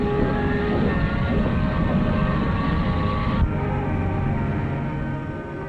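A New Haven Railroad train rumbles steadily nearby with a dense low roar, then eases and fades slightly as it slows pulling into a station.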